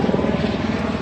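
An emergency hospital helicopter flies overhead in Halifax's North End, its rotor thumping in a steady, loud, rhythmic chop.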